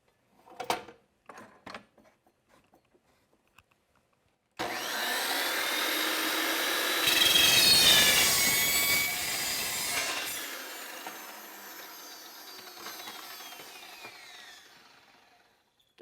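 A saw cuts a clamped piece for a model superstructure, a steady whirring cut that starts abruptly after a few light knocks and handling sounds, swells in the middle and slowly fades; no talk.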